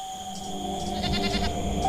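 A goat bleats in a steady, wavering cry that rises and pulses near the end, loud and close, with no talking.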